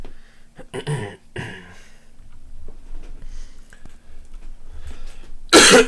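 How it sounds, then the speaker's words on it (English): A man coughs from allergies during a card game commentary, with a couple of harsh close coughs early, quieter throat noises in between, and one loud burst near the end. "I apologize for my coughing and such on the video."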